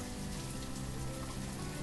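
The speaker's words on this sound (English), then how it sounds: "Oh, it's raining again." Rain falls in the town-building game Banished, a soft, even patter of droplets forming a constant quiet hiss with no voices.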